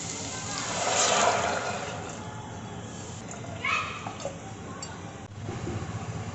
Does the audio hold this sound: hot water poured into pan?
yes